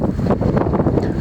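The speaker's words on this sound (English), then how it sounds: "it's windy today" Gusty wind buffets the microphone at an outdoor barn pad building site, a loud, rumbling, uneven roar that pulses throughout the short stretch.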